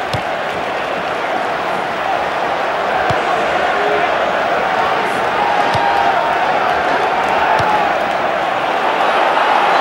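A large crowd at a football match between two amateur elevens roars steadily in a broad continuous wash of cheering, loud and sustained throughout with occasional sharp claps or thumps and a commentator's voice faintly mixed in.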